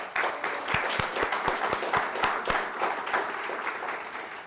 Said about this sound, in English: So students, you hear that applause